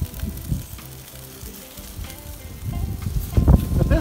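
Pre-sliced mushrooms cook in a pan for double cheeseburgers, uneven crackling sizzle with bumps and clatters that grows louder toward the end, close by with no speech.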